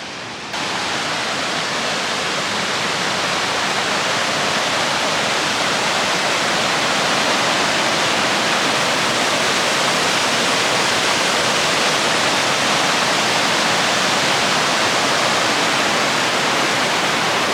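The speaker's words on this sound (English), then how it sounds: "now this is the largest waterfall I've seen so far in Colorado" Large Colorado waterfall roaring close by, a dense, steady wash of crashing water that holds loud and unbroken throughout with no voices.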